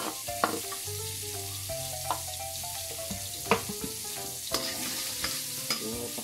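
Chopped garlic sautéing in hot oil, a steady crackling sizzle with repeated clinks and scrapes of a utensil stirring the pan, no voices.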